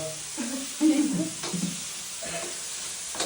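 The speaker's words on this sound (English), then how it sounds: "I'm cooking right now with my brother" Maggi noodles cook in a pan in a village kitchen, a steady hissing sizzle running throughout with clattering stirring knocks and occasional voices in the background.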